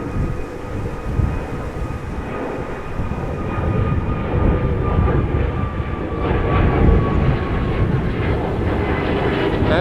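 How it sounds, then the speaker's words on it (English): An aircraft goes around at a windy Amsterdam Schiphol Airport, producing a loud, sustained engine rumble and roar that builds slightly and continues steadily throughout, with no voices. "Oh, this must be a go-around."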